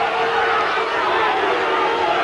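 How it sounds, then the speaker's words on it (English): A rugby league crowd at a 1991 under-21 Great Britain versus France match in Wigan voices displeasure, a dense, loud, continuous roar of many voices with no breaks. "And the crowd don't like it"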